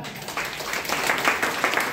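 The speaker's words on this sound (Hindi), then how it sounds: "चलिए धन्यवाद, एक जोरदार ताली।" An audience in a hall gives a short burst of hearty, dense clapping that stays fairly even for about two seconds.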